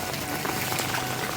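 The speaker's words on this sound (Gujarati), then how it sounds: "જો જૂનાગઢમાં ધોધમાર વરસાદ ચાલુ થયો છે" Heavy rain pours down in Junagadh in a brief, steady hiss of dense drops drumming on surfaces, loud and continuous with no voices.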